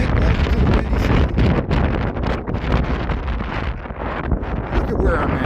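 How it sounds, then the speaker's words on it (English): Strong gusty wind at North Avenue Beach in Chicago in February, buffeting loudly and continuously with surging rushes and brief lulls, close and rough. "Hear that wind? Welcome to the windy city."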